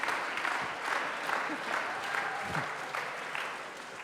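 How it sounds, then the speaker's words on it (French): Audience applause at an evening church gathering, honoring two senior silver medal winners; a moderate, steady patter of clapping from a modest crowd, fairly quiet and sustained throughout. "Je crois que cela s'applaudit également."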